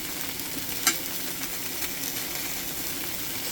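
Thin marinated LA galbi beef short rib slices frying in a non-stick pan, a steady close sizzle with crackling spatters and one sharp louder pop, no talking.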